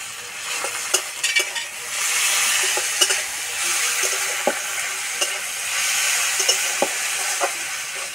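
Ginger-garlic paste fries in a pan of mustard oil with tomato and onion, giving a loud, continuous close-up sizzle with periodic scraping clicks from a stirring spoon and no speech.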